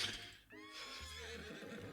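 A rearing horse gives a loud, close whinny that rises and wavers for over a second, with a low rumble and faint hoof sounds underneath.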